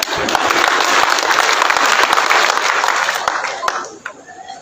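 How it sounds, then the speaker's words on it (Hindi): Crowd applause at a political rally in Panchrukhi addressed by Himachal Pradesh Chief Minister Jairam Thakur: dense, loud, sustained clapping from many hands that fades out near the end. "इसलिए मैंने कहा पुरुषों तुम भी ताली बजाओ भाई।"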